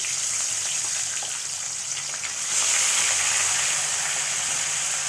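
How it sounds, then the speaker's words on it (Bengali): Tengra fish frying in hot oil in a pan, a steady close sizzle and crackle that swells louder about halfway through and holds, with no talking. "মাছটা ভাজা হোক"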